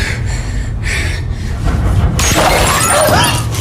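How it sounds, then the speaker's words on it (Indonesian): A phone shatters from a sniper's gunshot in a tense film scene, a sudden loud burst of breaking and crashing noise that erupts after quieter rumbling. "ponselnya yang terlempar pun hancur berantakan akibat tembakan susulan dari seorang sniper misterius"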